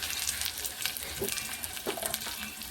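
Drumstick and carrot pieces dropped into onions frying in hot oil, a dense, bright sizzle with a few soft clunks and stirring noises, close, with no talk.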